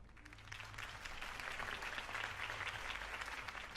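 Crowd applause for a campaign speech in the Batman Telltale video game, a steady, dense clapping that holds at an even level for about four seconds with no voices over it.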